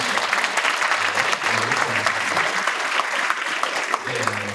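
A crowd at a Thanksgiving dinner claps steadily and loudly throughout, dense applause with a few voices mixed in.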